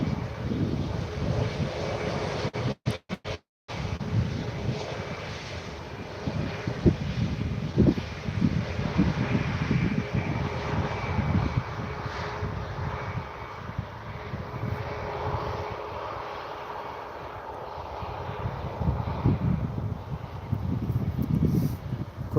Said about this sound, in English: Ryanair, Boeing 737.